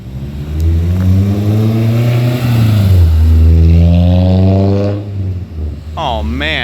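A Honda S2000 sports car with twin exhaust revs and accelerates loudly nearby on a downtown street, its exhaust note rising and falling in pitch, with a second rev climbing near the end.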